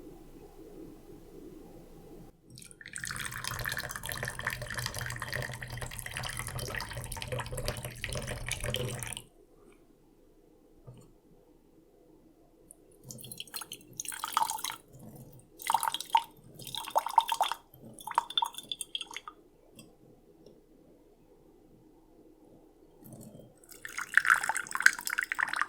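Water pours and trickles over glass teaware as it is rinsed and warmed for oolong gong fu brewing, with a steady stream, then quiet, then a run of clinks and splashing pours close up.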